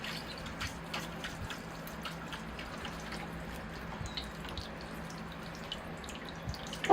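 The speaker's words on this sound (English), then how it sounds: "I'm going to give it a watering, again to wash the moss out and just settle it in." Water drips and trickles softly onto a bonsai ficus and its moss-covered soil, in scattered light taps over a quiet background.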